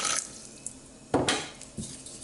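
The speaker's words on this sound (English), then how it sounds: "Give it a good stir." Ground almonds, rice and cinnamon being stirred with boiling water for horchata, giving a few clinks and scrapes of a utensil against a bowl, with two louder knocks near the end, close and fairly quiet.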